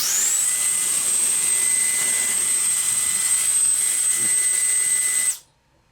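Sabrent BLowzer X6 cordless electric duster running at power level 3, a loud steady high-pitched whine with airy hiss held for about five seconds, then cutting off abruptly to silence.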